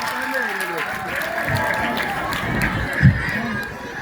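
Audience applause at a Zulu gospel gathering, a steady wash of clapping and crowd noise that runs throughout, with voices talking and calling out over it and a brief louder knock near the end.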